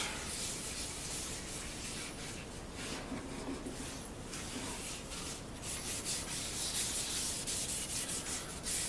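Stain being rubbed by hand into the basswood back and sides of a Telecaster-style guitar body, a steady close-up scrubbing and sanding-like rasp that continues without a break and grows slightly louder toward the end.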